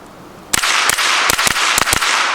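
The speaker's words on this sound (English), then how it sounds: "I'm double tapping, I'm shooting relatively quick." Several sharp shots from a suppressed SIG MPX rifle with an 8-inch barrel, fired in quick double taps: six crisp cracks in uneven pairs, loud and close, with no talking.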